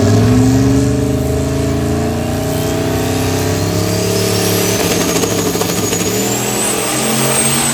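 A powerful turbocharged LS drag racing car engine roars and revs loudly at a dragway, its pitch climbing steadily as it accelerates, with a turbo whine rising above the rumble.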